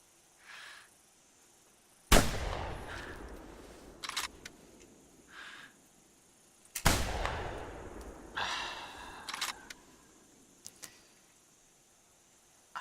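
A hunting rifle fires in the video game theHunter. Two loud, sharp shots ring out several seconds apart, each followed by a decaying echo tail, with faint rustles and breaths in the quiet gaps.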